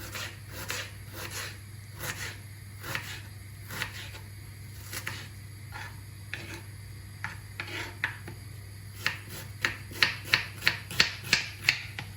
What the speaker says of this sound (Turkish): Küçük küçük doğrayayım.